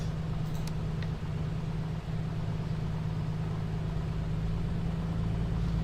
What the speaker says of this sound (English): The reason it's misfiring now is because we're up in the cold air, and the cylinder head temperature's gone way down low.